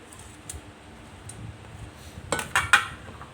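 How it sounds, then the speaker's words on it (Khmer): Prahok, a Cambodian fermented-fish dish with green vegetables, is ladled into dishes. Soft background noise gives way to a few quick, close clinks and scrapes of utensil against crockery near the end. "ឥឡូវយើងចាប់ដើមដួសដាក់ចានអស់គ្នាបងប្អូន"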